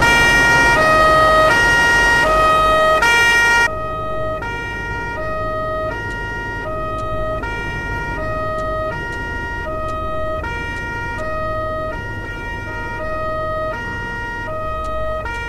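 An Italian police car siren in the online truck-driving game Euro Truck Simulator wails in a steady, repeating two-tone pattern, loud and close at first, then continuing slightly softer and unbroken.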